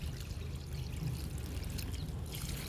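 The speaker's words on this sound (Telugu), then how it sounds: "నిమ్మ మొక్కకి ఇస్తున్నానండి లిక్విడ్" Liquid fertilizer poured steadily onto a potted lemon plant, a continuous soft trickle and splash running the whole time without pause, fairly quiet and close.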